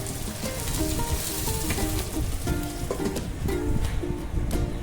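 Ridge gourd curry simmering in oil over a low flame, a steady soft sizzle and bubbling crackle with faint pops, close and continuous with no talk.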